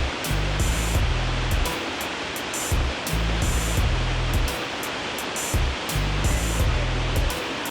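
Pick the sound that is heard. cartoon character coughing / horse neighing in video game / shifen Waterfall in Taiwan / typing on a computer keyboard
shifen Waterfall in Taiwan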